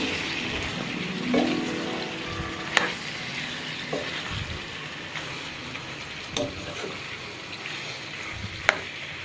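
Chicken curry simmers and sizzles steadily in a pan while a ladle stirs it, with a continuous frying hiss broken by a few sharp metallic clinks of the ladle against the pan.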